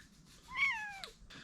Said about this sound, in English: Shop Kitty wants to help